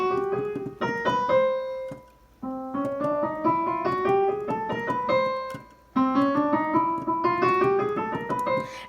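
Piano notes run in rapid ascending scales across the keyboard, three sweeping runs separated by brief pauses, clear and close with no talking.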